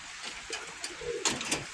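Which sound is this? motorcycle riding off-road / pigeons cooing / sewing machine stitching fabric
pigeons cooing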